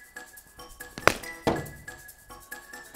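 A cricket bat strikes a ball in a drive shot during a batting drill where the ball is released from under the chin. A sharp, close knock is heard, followed shortly by a second, fainter impact in a quiet space.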